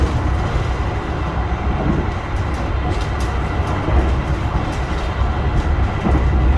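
Argo Sindoro express train rushing through Bekasi station at speed, a loud, continuous rumble and roar heard from inside the carriage with faint rhythmic clatter and no talking.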